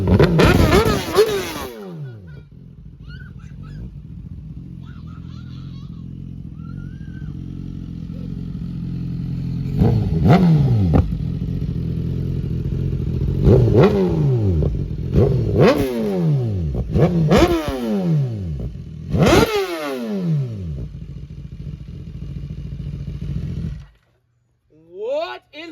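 A BMW S1000RR sport bike is ridden for its first test ride, roaring through repeated sharp revving surges and quick upshifts, loud and close, with excited talk over the engine before it cuts out at the end.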